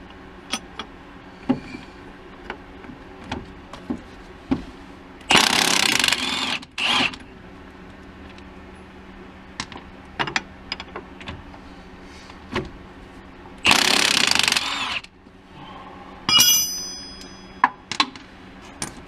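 Power tool removing clevis bolts on a 2005 Pontiac GTO front strut, two loud whirring bursts of a few seconds each amid clicks and garage clatter.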